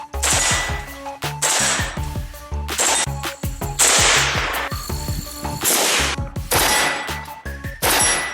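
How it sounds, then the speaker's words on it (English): An AK-47 fires a rapid string of loud, close shots, each one followed by a bright metallic clang from a steel target ringing out. The shots come in uneven bursts with brief gaps. "see if we can make that steel ring a little bit."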